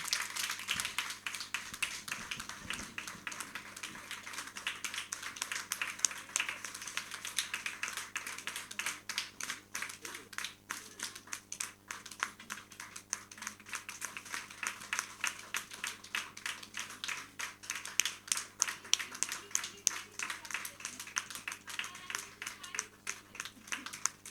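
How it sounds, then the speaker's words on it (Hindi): Sustained applause fills a hall at a book launch, a continuous patter of many hands clapping at moderate distance, fairly quiet overall with faint talk beneath. "हम सब तालियों से इस हॉल को गुंजा दें"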